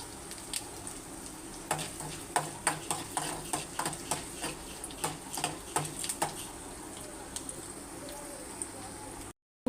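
Seeds and a dried red chilli tempering in hot oil, a low hiss overlaid by a quick series of sharp popping crackles through the middle, close and fairly faint.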